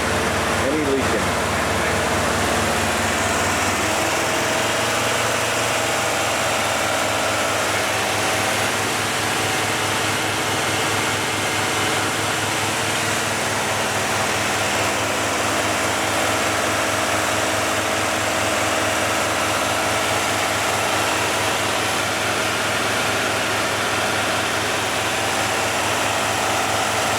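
A rebuilt 305 Chevy TPI V8 in a barn-find IROC-Z idles during cam break-in, a loud, steady, humming drone with a fast, even pulse that holds nearly unchanged after a brief settling at the start.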